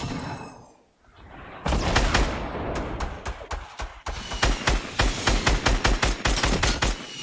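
Rapid gunfire from the Fortnite video game, including headshots during a 50v50 match, starts after a brief lull and continues as a steady string of loud, sharp shots for the rest of the stretch.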